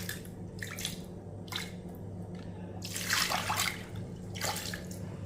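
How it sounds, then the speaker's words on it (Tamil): Soaking water poured into a cooker pot over soaked ingredients for a soup, heard as close splashing pours in several bursts over a steady background hum. "நல்லா ஊற வச்ச தண்ணியும் இதிலே ஊற்றிக்கிடுவோம்."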